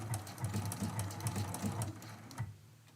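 Sewing machine running a narrow stitch along the edge of quilt appliqué fabric, a steady rapid needle patter at close range that fades out near the end.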